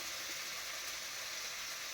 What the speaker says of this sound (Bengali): আর এই কড়াইতে এখন মাছ ভাজা চলছে